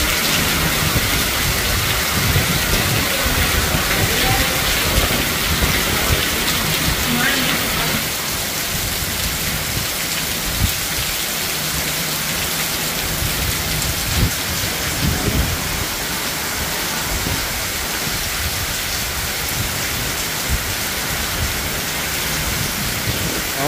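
Heavy village rain with thunder, a dense loud downpour hissing steadily throughout while low thunder rumbles roll underneath.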